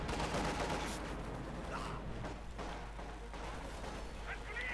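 Tank cannon shots from a Panther-era German Panzer VI in a Company of Heroes 2 real-time strategy battle, booming amid dense, continuous gunfire and artillery rumble under a busy game soundscape with no clear single blast.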